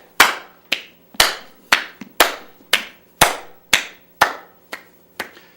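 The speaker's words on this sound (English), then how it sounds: "So notice as I clap behind me, I'm not coming down low." About ten crisp hand claps made behind the back during an upper-back exercise, spaced roughly half a second apart in a steady rhythm, close and loud with a short ringing decay.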